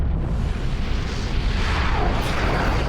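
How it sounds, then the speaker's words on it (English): A supernova explosion effect from Battlestar Galactica rumbles as a loud, dense, continuous roar of deep booming noise that holds steady for a few seconds with no speech. "It's your supernova happening."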